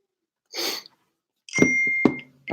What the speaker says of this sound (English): my phone just went crazy